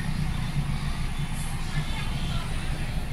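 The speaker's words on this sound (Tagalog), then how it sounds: "Traffic talaga yun palagi dyan." Road traffic with trucks, a continuous low engine rumble close by with faint recurring tones over it and people talking underneath.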